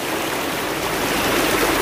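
Strong, steady rush of a fast-flowing stream at a grotto in Barangay San Miguel, a dense continuous roar of water with no break, close and loud throughout.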